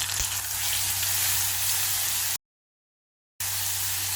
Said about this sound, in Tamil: மசாலா சேர்த்து வதக்கிக்கலாம்.